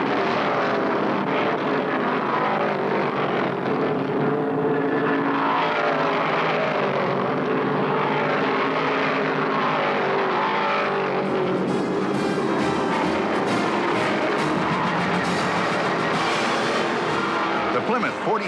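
Stock cars roar around Martinsville on the final laps of the 1972 Virginia 500, a loud, continuous engine drone that swells as cars pass, with a commentator talking over the racing.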